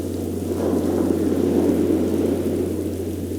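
Steady rain falls in Call of Cthulhu: Dark Corners of the Earth, a dense continuous hiss with a low rumble beneath, swelling slightly mid-way and holding alone without voices.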